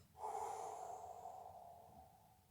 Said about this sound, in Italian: fuori il respiro.